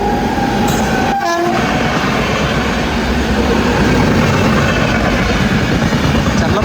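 A superfast express train thunders through Pithapuram railway station without stopping, its wheels and carriages producing a loud, continuous rolling roar close by, with a brief horn note early on.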